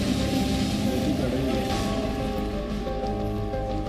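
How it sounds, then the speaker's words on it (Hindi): Continuous heavy monsoon rain in Fatehpur, India, hisses steadily and loudly on surfaces near a flooded railway underpass, a dense unbroken wash with a voice faintly present beneath it. "लगातार बारिश की वजह से"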